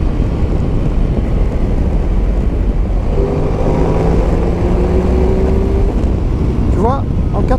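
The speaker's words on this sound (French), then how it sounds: "On va pouvoir accélérer." Ducati DesertX motorcycle accelerating on a damp road after rain, a loud steady engine roar with rising tones under heavy wind rush from the riding position.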